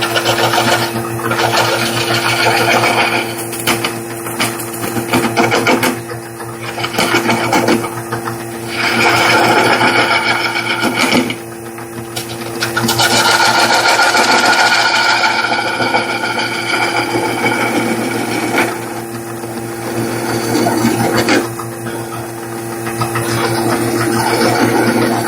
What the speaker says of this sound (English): Just going to do a little sanding and clean up any tool marks